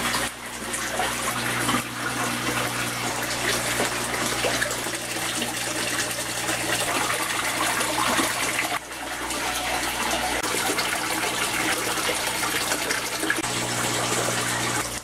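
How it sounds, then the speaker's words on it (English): Water gushes and gurgles continuously as a bell siphon drains an aquaponics grow bed built from an IBC tote, a steady rushing flow with a brief dip midway, no voices. "the bell siphon has just about sucked all of the water out of the grow bed"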